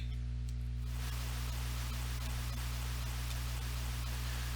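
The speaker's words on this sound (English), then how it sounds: "Whew, what a storm." Steady synthetic rain from a storm in the Pokemon Black video game pours as an even hiss over a constant low electronic hum. It begins abruptly after a moment of quieter game tones and carries on loudly without a break.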